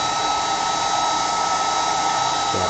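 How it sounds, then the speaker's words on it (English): A loud, steady whoosh of a hair dryer blowing continuously at close range, with no voices. "My ears will be like the hairdryer sound."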